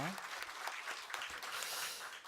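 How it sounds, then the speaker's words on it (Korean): A church congregation at a Sunday worship service claps steadily for a couple of seconds, dense and even applause with no talking over it. "하나님께 감사의 박수를 한번 올려드리고 싶습니다"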